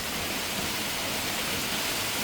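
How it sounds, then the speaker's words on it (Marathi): Heavy rain pours down on Umarga town in Dharashiv district in a dense, unbroken hiss that stays steady and loud from start to finish. "उमरगा शहर धाराशिव जिल्ह्यामध्ये मस्तपैकी पाऊस बरसतो आहे"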